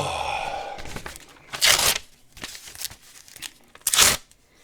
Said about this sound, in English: I'm going to rip it up